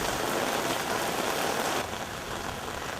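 Heavy rain pours down steadily, a dense continuous hiss on surfaces that eases slightly near the end, with no voices.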